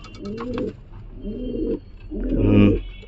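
Giribaz pigeons, a male and female pair, coo close by in three distinct rolling calls, the last one loudest, with no talk over them.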